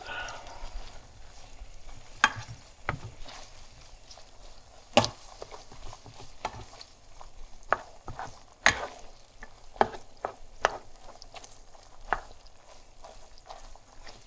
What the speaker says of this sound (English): You want to make sure it gets all browned up.